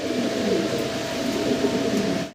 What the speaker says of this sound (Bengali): লাহরি কবুতর দেখতে পারতেছি